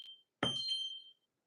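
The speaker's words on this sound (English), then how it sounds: "Yeah, her alarm's going off." An electronic alarm gives a short high beep, then a louder buzzing tone that sustains about three-quarters of a second before cutting off, quiet and indoors.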